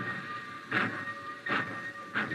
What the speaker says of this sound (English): He watched the black train.